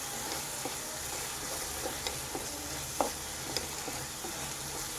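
Cooked, mushy tomatoes sizzle softly in a pan for dal fry as a spoon stirs them, giving faint scraping clicks over a steady, quiet frying hiss.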